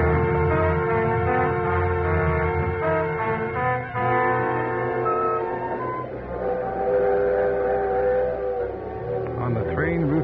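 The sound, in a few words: train riding along the rails, radio drama sound effect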